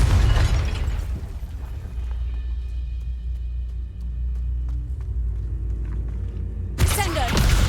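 Confringo explosive spell cast in the video game Hogwarts Legacy, a heavy booming burst and low rumble opening the clip, a long low drone, then another loud crash of impact near the end.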